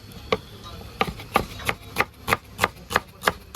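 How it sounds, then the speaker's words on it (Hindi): Knife chopping onion on a board for dhaba-style matar paneer, about ten crisp, evenly spaced cuts close up, steady and brisk with no talk. "ऐसे ही प्याज काट लेंगे।"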